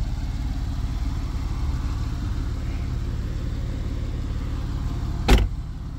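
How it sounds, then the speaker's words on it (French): A Porsche 997 Carrera 4 flat-six idles steadily with a low, even rumble throughout, close and alone, with one brief sharp click near the end. "le flat 6 en action."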